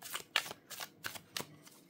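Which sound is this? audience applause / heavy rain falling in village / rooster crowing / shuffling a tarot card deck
shuffling a tarot card deck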